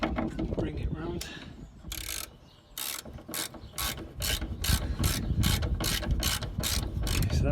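A ratchet tightens a subframe bolt on a van, first with a few scattered metallic clicks, then a fast regular run of sharp ratcheting strokes, close and fairly loud.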